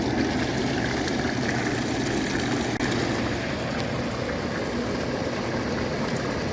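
Steady rushing of falling water from a hot tub waterfall feature runs continuously, a constant broadband splash with a low mechanical hum underneath, no voices.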